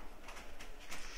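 Birds calling across the open wetland grassland of Paynes Prairie Preserve State Park, with a few soft cooing, dove-like notes standing out from a steady outdoor hiss, fairly faint and distant with no talking.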